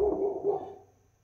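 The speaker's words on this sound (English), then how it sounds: "Dog is still barking." A dog gives one muffled, resonant bark that fades over about a second, heard at a distance in a quiet room during a craps session.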